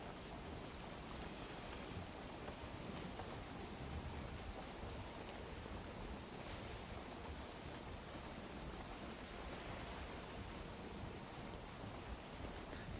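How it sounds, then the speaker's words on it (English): Rain falls in a swamp within a video game, a dense, even wash of steady patter and hiss that holds at a constant moderate level throughout, with no speech. "Raining in the swamp."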